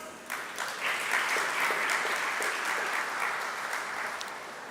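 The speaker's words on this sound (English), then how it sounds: "Good round of applause," An audience at an Indian lecture event applauds warmly, a steady spread of many hands clapping at moderate distance for several seconds with no talking.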